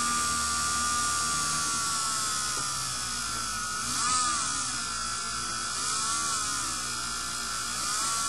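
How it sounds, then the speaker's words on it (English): A Dremel rotary tool runs at low speed while drilling a hole into the end of a resin piece, a steady, close, high-pitched whine whose pitch dips slightly as it bites into the material. "I'll take one end, turn on my Dremel"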